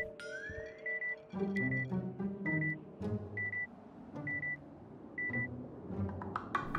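In GTA V on a NoPixel roleplay server, a house alarm keypad sounds a steady series of short, evenly spaced electronic beeps over low game background sounds, with no speech.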